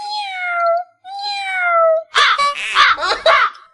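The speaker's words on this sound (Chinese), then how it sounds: "是哪只小野猫？ 大夏天的还在叫春。" A cat in heat yowls on a summer night in an animated scene: two long, drawn-out wailing cries followed by a rapid series of harsher, broken yowls, loud and close.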